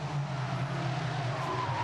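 SsangYong Actyon ute race car sliding sideways on the Pukekohe circuit, a steady loud engine drone with a rising whine and tyre scrub, continuous and close.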